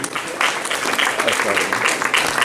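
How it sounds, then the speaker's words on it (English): A crowd applauds steadily, a continuous wash of clapping with voices mixed in. "A big round of applause for the President, please."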